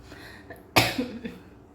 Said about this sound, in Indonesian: bentar aku batuk dulu ya